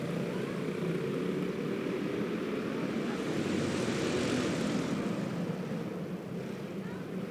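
A pack of six racing karts with Predator Treaded Pro 370 engines runs together at an indoor raceway, making a dense, continuous droning roar at steady loudness.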